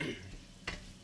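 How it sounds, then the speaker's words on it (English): Garlic and onion sauté gently in a pan, giving a quiet sizzle with one brief scrape near the end. "we're going to let the garlic and the onion sit here for just a little bit, maybe a couple minutes"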